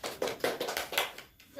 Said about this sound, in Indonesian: Berikan tepuk tangan untuk Mbak Hani.